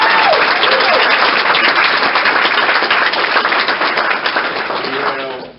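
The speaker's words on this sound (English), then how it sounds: "Would you all give a round of applause?" A crowd at a Masonic lodge anniversary event gives dense, continuous clapping that stays loud and even, then tapers off in the final moment.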